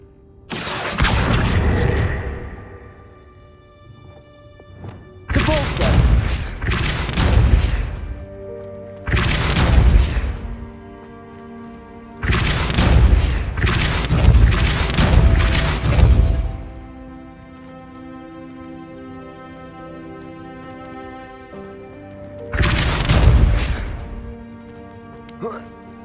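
Depulso spell impacts in the video game Hogwarts Legacy land as a series of heavy booming blasts, each a deep burst that rings out and decays, arriving in irregular clusters with pauses between.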